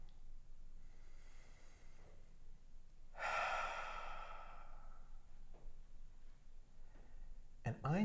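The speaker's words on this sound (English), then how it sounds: "I'm inviting you to take a deep breath with me right now" A single deep breath during a guided meditation, a long drawn exhale or sigh rising clearly for about a second in a quiet room, with faint breathy sounds around it.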